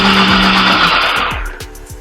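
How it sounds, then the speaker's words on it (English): A countertop blender whirring loudly while it purées vegan alfredo sauce, a steady high motor roar that winds down after about a second into quieter thumps and rattles, with no voices. "Okay, keep blending."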